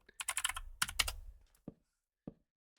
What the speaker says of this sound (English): I'm going to type build.